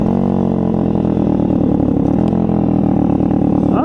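A Tao Tao 140cc Chinese dirt bike is ridden with its engine running loud and steady at close range. The exhaust drones with an even, rapid firing pulse and no talk over it.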